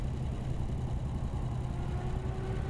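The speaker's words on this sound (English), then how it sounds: "Got a little bit on our port engine here." The port engine of a ship in Professional Ship Simulator runs with a steady low rumble and drone, constant and unbroken, with no voices.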